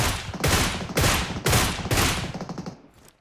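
Video game gunfire rips out in four rapid, loud bursts of automatic shots, each separated by a short pause, with the last burst trailing off quieter.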